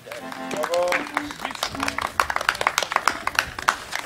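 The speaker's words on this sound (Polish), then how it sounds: "Wielkie brawa!" Clapping breaks out at a Polish pigeon racing club prize ceremony, scattered close hand claps building under talk and background voices, with brief tonal sounds early on.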